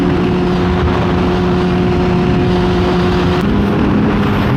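A Ninja motorcycle is ridden at night, its engine droning steadily and loudly with constant wind rush, and the pitch shifts slightly near the end.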